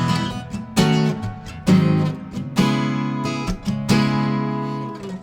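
Strummed acoustic guitar chords on the closing progression of the worship song I Speak Jesus, played alone in several ringing strokes with sustained decays between them.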